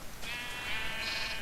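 A single video-game sheep gives one sustained, bleating baa lasting about a second, clear and close over faint background noise, with no talking.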